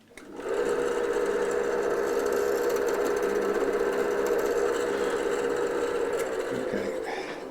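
A power drill boring a hole into the body of a Hartwood 335-style guitar copy for a pickup swap, a loud, steady whirring grind that runs continuously for several seconds before easing off at the end.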